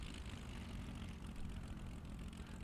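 A propeller aircraft engine from the IL-2 Battle of Stalingrad flight sim drones steadily and faintly at a constant pitch, with no talk over it.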